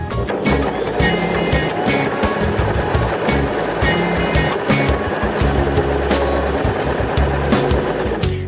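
A Janome 2032X sewing machine stitches a buttonhole, giving a steady, close, rapid mechanical clatter that runs continuously without pause.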